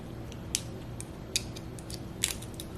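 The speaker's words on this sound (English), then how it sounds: "Just going to use a small pair of scissors to pop" Small scissors snipping paper daisy flower shapes out of a sheet, a few sparse, crisp cuts spaced irregularly, close and quiet with no one speaking.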